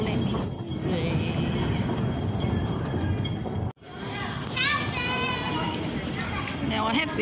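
A train pulls into a railway station platform with a steady rumble of rolling wagons, then a brief pause, with children's voices and chatter over it.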